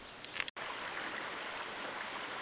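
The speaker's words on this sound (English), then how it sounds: "you can hear the sound of the creek, which is part of the headwaters of Big River that flows just south of Mendocino" A small creek at the headwaters of Big River, just south of Mendocino in a redwood forest, runs as a steady, soft broadband rush of water, faint and continuous after a brief cut near the start.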